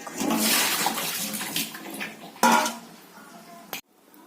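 Water pours into a container in a kitchen after washing leaves, a steady splashing rush that swells and then cuts off abruptly.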